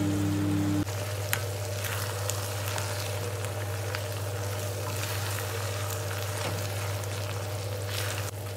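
Okra with red chili fries in a pan with a steady crackling sizzle and scattered sharp pops as it is stirred, over a constant low hum, close and moderately loud throughout.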